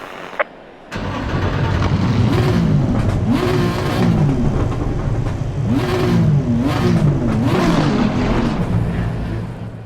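Nissan R35 GT-R GT3 race car in Assetto Corsa Competizione, engine starting then revving repeatedly in rising and falling sweeps at the Nurburgring before a rolling start, loud and close with no talk.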